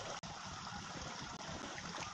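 After an all-night rain, rainwater trickles and flows in a soft, steady, faint stream, with one brief dropout early on.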